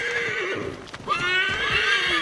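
Horse neighing loudly in Assassin's Creed 3 in a snowy setting, two close whinnies with rising and falling pitch separated by a brief breathy snort, faint hoof thuds beneath.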